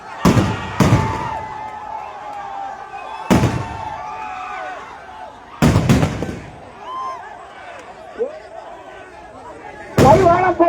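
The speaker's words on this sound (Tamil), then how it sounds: "வெடி அடிக்குது ஓரமா நில்லுங்க." Firecrackers burst at an outdoor election campaign rally in a series of sharp, loud cracks, some in quick doubles, spaced across the stretch, with crowd murmur and voices talking between blasts.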